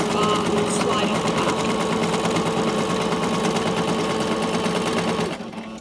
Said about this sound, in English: the stitches go across the crossbar and slide off.